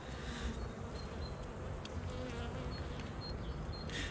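Honeybees buzz in a dense, steady hum throughout a spring hive inspection, with occasional higher whines of individual bees passing close by.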